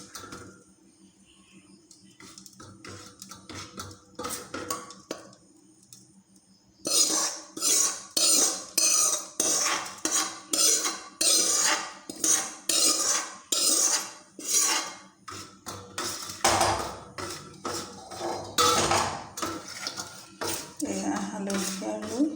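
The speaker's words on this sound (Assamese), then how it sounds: "জলকীয়া গুড়িকণ তেলত মিক্স কৰা হৈ গ'ল" A spoon stirs turmeric and red chili powder into cooled oil in a bowl for mango pickle, scraping and clinking against the sides in a steady, close, repeated rhythm after a quieter start.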